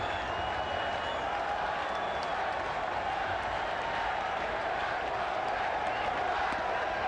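Baseball crowd at Jack Murphy Stadium in San Diego, Giants at Padres, with a steady wash of cheering and applause from the stands. Voices run beneath it.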